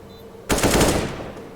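A sudden, loud burst of automatic gunfire from CS:GO, close and sustained for about a second after a quiet lead-in, fading at the end.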